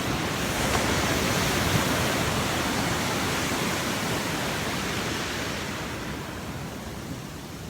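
Ocean surf as a steady, dense broadband roar of breaking waves with wind buffeting the microphone, loud and continuous with no voices, easing slightly toward the end.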